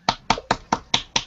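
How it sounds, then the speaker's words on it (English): Six sharp hand claps ring out close by in a quick, evenly spaced rhythm, each a crisp snap with a short decay and silence between them. "sounds like you're clapping"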